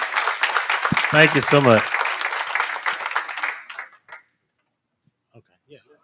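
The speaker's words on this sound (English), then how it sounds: "Let's give them another round of applause." An audience at a university board of supervisors meeting applauds loudly, with a voice speaking over the clapping before it fades out into near silence.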